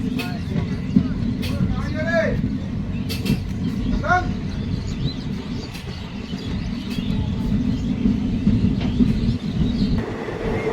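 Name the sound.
Kanchankanya Express train running on the rails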